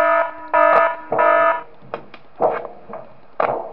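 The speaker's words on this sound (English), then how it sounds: "Sound the alarm." An alarm blares in the horror fan game Five Nights at Smash Bros, loud repeating electronic honks in three sustained bursts followed by shorter, harsher blasts, with no talk over it.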